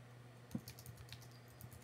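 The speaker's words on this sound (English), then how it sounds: "Now if I type a different phrase," Soft, sparse taps on a computer keyboard as a phrase is entered into a sign language dictionary search box, faint and close, over a low steady hum with no talking.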